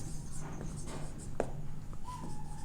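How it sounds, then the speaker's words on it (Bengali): Handwriting Bengali text, probably with a pen on paper, gives soft, close scratchy strokes in short irregular bursts over a low steady background hum. "আগে বাংলা লিখি"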